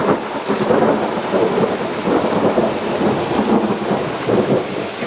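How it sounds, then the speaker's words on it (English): Thunder rumbles low and continuously through a heavy hail and rain storm, a rolling, loud growl under the constant patter of rain, with no one speaking. "Just hear the thunder."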